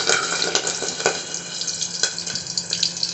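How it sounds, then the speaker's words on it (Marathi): Green chillies frying in hot oil in a covered pan over a full flame give off a steady, fairly loud sizzle with scattered sharp crackles and pops. "गॅस फुल करून तळतळ आवाज येतो तसं."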